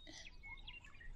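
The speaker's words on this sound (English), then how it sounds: "Quickly scare the bird away, please." Small bird chirping in a quiet fantasy scene, a string of quick bright tweets and short squawky calls that sound close and soft, with no talking.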